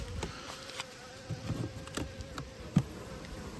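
Honey bees buzz around an open backyard hive as boxes are inspected, a dense continuous hum with scattered louder passes of individual bees close to the listener, no voices.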